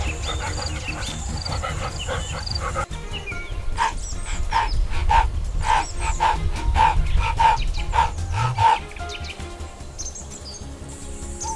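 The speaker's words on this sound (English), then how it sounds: "Growls, deep and guttural, ripple through the grass" Hyenas and a lion face off on the savannah, with a rapid, evenly spaced series of yelping calls riding over a low, rumbling growl. The calls stop abruptly, leaving only the rumbling background.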